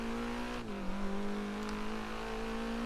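An Alfa Romeo 4C in Forza Horizon 3 holds a loud, steady engine drone under hard acceleration. The pitch dips briefly and then climbs again, with faint tire noise underneath.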